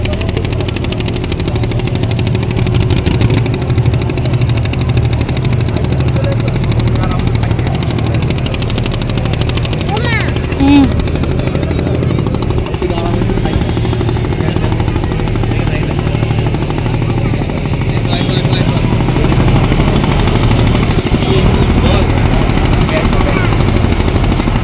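A motor boat engine runs on the Ganges near Mayapur, a loud, steady chugging rumble that continues without a break under the surrounding noise.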